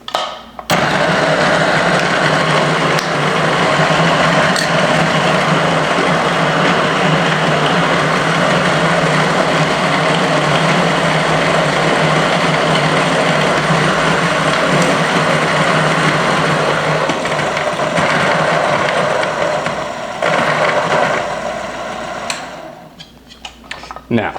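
A coffee grinder grinds coffee beans in one loud, continuous whir lasting about twenty seconds before winding down, with no talking over it.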